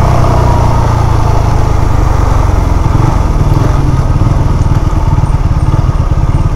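A Benelli TNT 25 motorcycle ridden through Islamabad in the evening, its engine a loud, steady, buzzing drone that stays close and continuous the whole time, with no talking over it.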